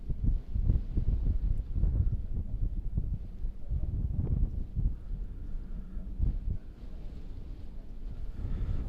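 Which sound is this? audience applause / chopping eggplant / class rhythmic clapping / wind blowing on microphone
wind blowing on microphone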